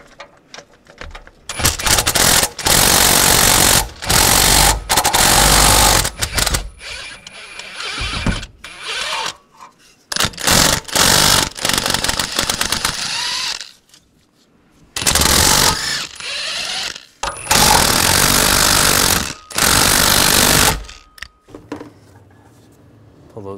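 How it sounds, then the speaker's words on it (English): Ratchet with a 13mm socket loosening the exhaust manifold bolts on a 2013-2016 Dodge Dart, heard as loud, close bursts of clicking and clattering mechanical noise broken by short gaps and quieter handling sounds. "Now we'll take the bolts out. I'm going to use a 13mm socket for those."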